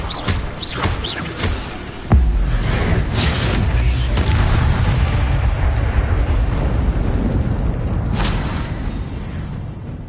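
Incendio fire spell cast in Hogwarts Legacy, several sharp crackling bursts and then a sudden loud whoosh and roaring blaze that sustains for seconds before another flare near the end.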